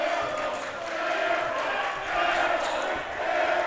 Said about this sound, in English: Loud crowd here tonight.